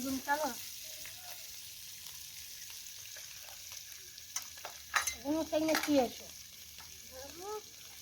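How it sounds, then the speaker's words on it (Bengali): Parshe river fish fry in oil on a wood-fired stove, giving a soft continuous sizzle, while people talk intermittently over it. "মাছ ভাজা হচ্ছে"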